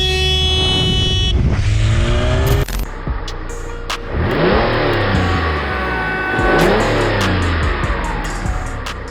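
A Lamborghini on a road revs and accelerates hard, the engine pitch climbing repeatedly in loud, close sweeps, with a brief horn-like tone near the start.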